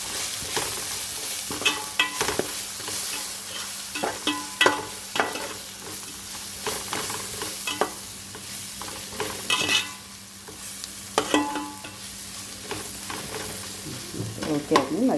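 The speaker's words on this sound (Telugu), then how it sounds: "ఇప్పుడైతే బాగా కలుపుకుందాం." A spoon stirs pasta tossed with Maggi masala in a hot pan, with scraping strokes and clinks recurring every second or so over a soft steady sizzle.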